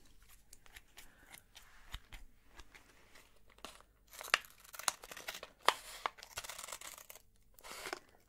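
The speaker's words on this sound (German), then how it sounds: "Ich schneide mal die Packung auf." Scissors cut open a package of berry mix coated in three kinds of chocolate, with close, quiet snips and crinkling plastic in uneven bursts and no talk.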